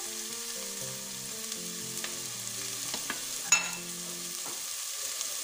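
A medium-sized onion sizzles in a tablespoon of olive oil in a pan, a steady close hiss with a soft clack near the middle, while tonal background music plays underneath.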